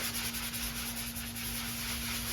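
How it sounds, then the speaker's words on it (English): Steady back-and-forth rubbing of a very fine 3M sanding block on drywall filler, a soft continuous scratchy hiss with a faint hum underneath. "give these a light sanding, just using a very fine 3M block"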